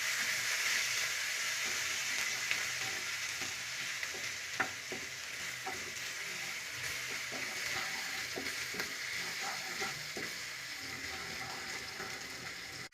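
A tablespoon of ginger garlic paste fries in hot oil with a soft, constant hiss and sputter. Occasional faint taps and stirring scrapes sound against the pan, quiet and close, with no talking.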